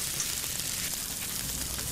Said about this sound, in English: my noodle is going in now. Now I'm going to use my chopstick to stir it.